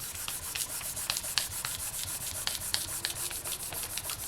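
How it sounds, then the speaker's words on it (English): A tool rubs quickly back and forth over a polymer clay veneer to burnish it, making a close, fast, steady scraping rhythm that keeps going for the whole stretch. "I'm going to burnish this side as well"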